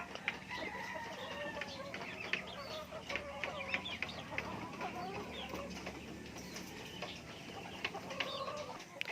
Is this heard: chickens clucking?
yes